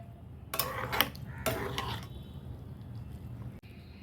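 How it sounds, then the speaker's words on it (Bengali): Boiled noodles are tipped into a basket and rinsed under water, giving two or three short splashing pours with light clattering of the basket and utensils, then a quieter dribble, no talk. "এবার এটা আমি ঝুড়ির মধ্যে ঢেলে ঠান্ডা জলে ধুয়ে নেব ভালো করে।"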